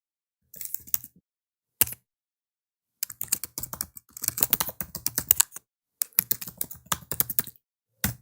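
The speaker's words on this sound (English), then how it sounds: "So I'll just type that in now." Bursts of rapid key clicks on a computer keyboard while entering account details, clear and close, coming in short runs separated by pauses.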